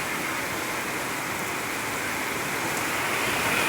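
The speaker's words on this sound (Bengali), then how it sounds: "হেভি জোরে পানি হচ্ছে, হেভি জোরে।" Heavy rain pouring down during a storm in Kolkata, a steady dense hiss of water hitting surfaces, loud and unbroken with no voices.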